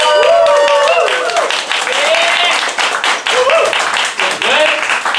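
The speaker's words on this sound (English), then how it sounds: "Put your hands together and clap real loud if you think the winner of this fight is David." Loud crowd clapping and cheering rings out at a battle rap show vote, with whooping voices rising over dense, continuous applause.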